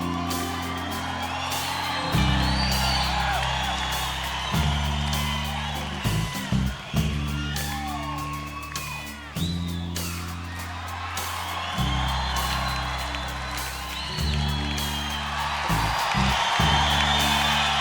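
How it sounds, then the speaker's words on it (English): A concert crowd at a show cheers and whoops loudly and continuously, with yells rising over sustained live music and a steady bass line throughout. "They're cheering for something that's happening visually"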